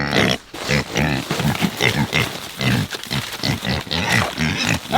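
Small hobbit pigs outdoors in snow: a close series of rapid, repeated grunts and snorts, loud and continuous, with no talk.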